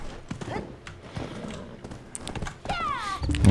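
A horse in the online game Black Desert Online clip-clops along at a run, with hoofbeats and a neigh close by and a person talking over the sound.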